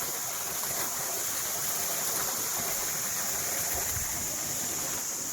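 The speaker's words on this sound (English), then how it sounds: "Behind me is a natural waterfall." A small natural waterfall high on a mountain gives a steady, broadband rush of falling water, constant and fairly close, with no voices.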